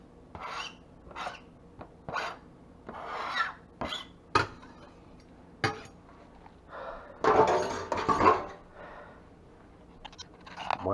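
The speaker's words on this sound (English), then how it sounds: "Now we're gonna stir in the peppers." A spoon scrapes and stirs peppers into a thick cheesy filling in a bowl, giving irregular rasping strokes with short pauses between them and an occasional clink.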